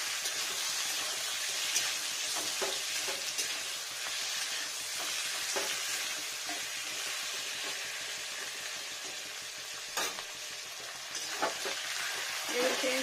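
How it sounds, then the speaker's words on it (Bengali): Chicken pieces sizzling loudly in a hot pan for chicken polao as a spoon stirs them, a continuous fry hiss broken by repeated scraping clatters, close up and without talk. "আর দিয়ে নেবো চিকেনটা এখানে দিয়ে নেবো। একটু কষাই ভালো করে।"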